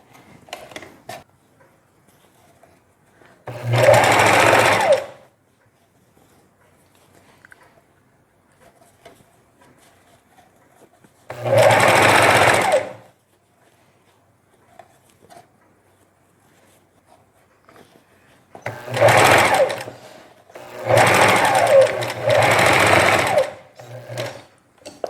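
Domestic sewing machine stitching a folded, roughly 2 cm hem on a knitted jacket sleeve: four separate runs of steady mechanical whirring, each a few seconds long, with quiet pauses between them and a double burst near the end.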